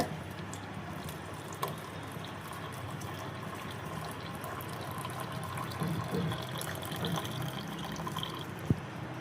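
Milk streams into a pot of boiling homemade herbal tea with a continuous soft liquid pouring and bubbling sound, close by and fairly quiet, with a couple of faint clinks.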